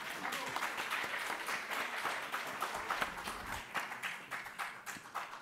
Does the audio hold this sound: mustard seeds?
no